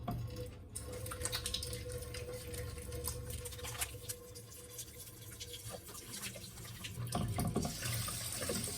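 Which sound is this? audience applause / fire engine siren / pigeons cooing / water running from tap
water running from tap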